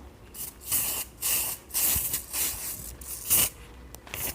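Hair spray hisses from a can in a series of short bursts, about seven quick sprays at an uneven rhythm, close and fairly loud with nothing else heard.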